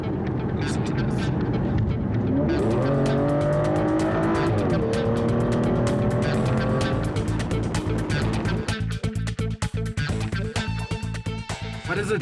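A powerful Aston Martin sports car engine roars and revs hard, its pitch climbing and dropping through gear changes, loud and close, with rapid popping crackles toward the end.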